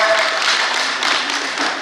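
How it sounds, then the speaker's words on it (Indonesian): An audience at an indoor training session applauds, a dense, continuous wash of many hands clapping at steady loudness throughout. "Tepuk tangan sekali lagi yang semangat untuk semuanya."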